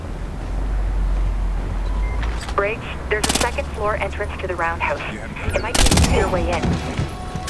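Rapid gunfire in the stealth shooter Splinter Cell Blacklist: sharp bursts of shots crack out among continuous game noise while a person talks excitedly over it.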